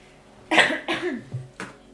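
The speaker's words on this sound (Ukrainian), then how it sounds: "Я сейчас кашляю" A few short, rough coughs in quick succession, close and fairly loud, with no talking.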